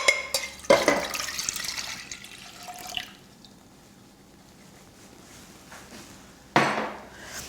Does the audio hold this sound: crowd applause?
no